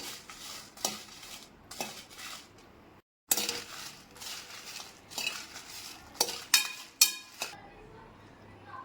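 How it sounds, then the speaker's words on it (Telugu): Green chillies dry-roast in a pan without oil for a peanut chutney, heard as a light crackle under frequent metallic scraping and clinking of a spoon against the pan, with one brief silent gap. "మిరగాయలు వేయించుకున్నాం రెండు నిమిషాలు ఇలా నూనె వేయకుండా వేయించుకొని తర్వాత నూనె వేసుకున్నామండి"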